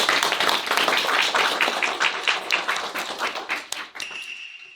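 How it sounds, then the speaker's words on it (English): A small group claps for a painting master serving as judge at a school activity, scattered sharp claps that thin out and stop near the end, followed by a faint tone. "Everyone give him a round of applause."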